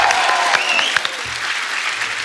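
A television studio audience gives loud, sustained applause to welcome an arriving guest, film director Ashutosh Gowariker, on a comedy talk show, with faint cheers and whistles mixed into the clapping.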